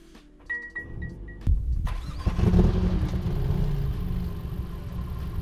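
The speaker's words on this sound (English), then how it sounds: "So that's what a normal startup sounds like." A 2020 Mercedes-AMG CLA 45 makes a normal cold start. Faint electronic chimes and clicks sound first, then the starter catches and the engine flares into a loud, rumbling idle that settles and holds, close by, with no talking.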